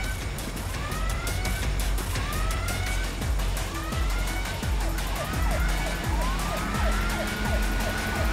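Police sirens wail and sweep continuously while closing in on the player in the crime shooter Crime Boss: Rockay City, loud and layered over dense gunfire, engines and game noise.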